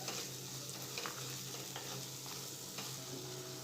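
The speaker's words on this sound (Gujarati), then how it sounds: "સરસ તેલમાં આપણે સાતળી લઈશું" Spices sauté in hot oil for a mixed-lentil dal fry, a soft steady sizzle with light stirring scrapes, quiet and close, no voices.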